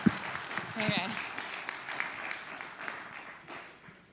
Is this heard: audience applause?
yes